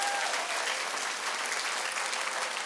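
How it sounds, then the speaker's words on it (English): Steady, full applause from a large audience honoring the company chairman, a continuous wash of many hands clapping at even loudness, with a faint tone briefly audible at the start. "let's give him a big round of applause."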